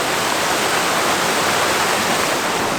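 A small waterfall beside a campsite in the Great Smoky Mountains, a steady, loud, close rushing of falling water with no break and no voices.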